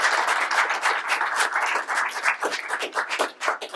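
An audience claps steadily for a panel of speakers after a civic discussion, a dense close round of applause that holds for a few seconds with no talking over it.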